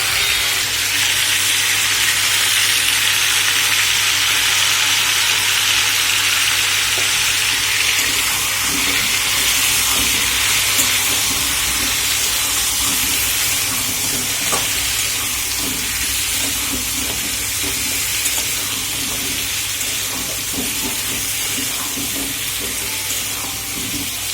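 Potatoes fry in a pan with turmeric and salt, a loud, continuous hiss of sizzling oil heard up close, steady with faint crackles and no talking.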